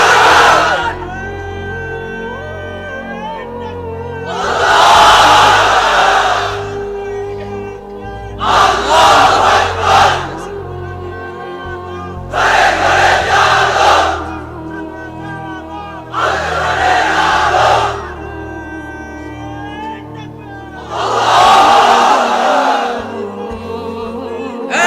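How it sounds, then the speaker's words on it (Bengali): A large crowd of unmarried men at a religious gathering roars the takbir in unison, several loud massed chant bursts repeating at regular intervals, separated by quieter pauses with tonal hum in the background. "এবার অবিবাহিতরা দাও লিল্লাহি তাকবীর।"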